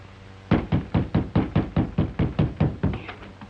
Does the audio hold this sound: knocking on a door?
yes